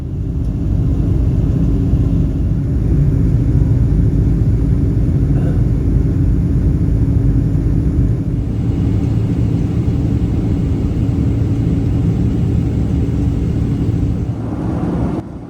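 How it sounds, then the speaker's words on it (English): A Delta Boeing 767's jet engines roar on takeoff, a loud, steady low rumble and whir heard from inside the cabin that holds constant throughout. "this airplane and the engines are super loud"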